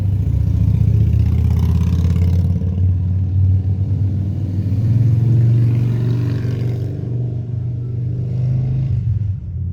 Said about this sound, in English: there's too many vehicles passing by and motorbikes and all that